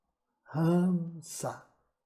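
A voice imitates the breath of pranayama breathing, making a soft voiced, sighing hum that trails into a brief hissing exhale, close and alone.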